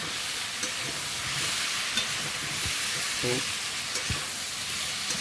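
Eggplant fries in oil rendered from hilsa fish, a soft, even sizzling hiss that runs throughout beneath faint background noises and a few quiet, indistinct voices.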